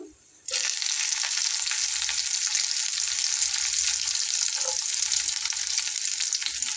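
Garlic cloves drop into hot oil left from frying dried fish and erupt into a bright, steady sizzle that starts abruptly after a brief quiet moment and holds loud and close.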